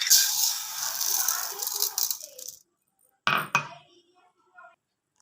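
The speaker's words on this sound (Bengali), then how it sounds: "ডালটাকে এভাবে ভালো করে ধুয়ে নেব।" One cup of lentils (dal) swished and rinsed in water in a bowl: wet grainy rattling and clinking that fades out, then a brief sharp burst of clinks and a faint rattle, no voices.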